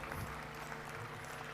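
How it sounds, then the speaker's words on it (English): An audience claps at the 10th World Ayurveda Congress, a steady, even patter of applause heard faintly and at a distance throughout. "A big round of applause, please."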